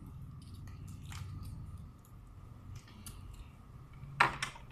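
Blue crabs being eaten up close, with crunchy cracking and squishy chewing of shell and meat, ending in a louder sharp crack.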